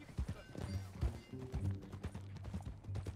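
Horse hooves clip-clop at a steady walking pace nearby in the video game Red Dead Redemption 2, with a low rumble of movement underneath.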